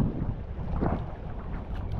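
Wind buffets the microphone in a low, rumbling roar, with a faint watery wash underneath, steady and close for a couple of seconds, on a fishing boat.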